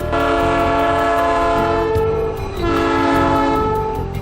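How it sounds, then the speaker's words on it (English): A train in Peru's Sacred Valley near Machu Picchu rumbles loudly nearby with a sustained horn-like tonal drone and rolling mechanical noise, briefly dipping midway before swelling again. "but we were content to take the train"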